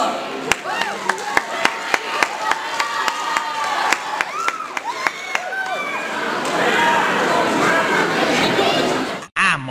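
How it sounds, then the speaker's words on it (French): Audience at a cosplay show claps for a Mario cosplayer: sharp isolated claps at first, swelling into dense crowd applause and cheering near the stage, with chatter underneath. "Merci de l'applaudir bien fort"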